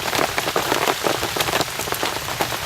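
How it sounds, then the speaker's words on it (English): Steady, dense rain pattering on a tarp overhead, a continuous even downpour close by with no voices. "it is just a steady downpour too"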